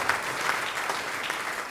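Audience clapping at an opening conference talk on self-confidence, a short burst of steady, fairly loud applause from a seated crowd.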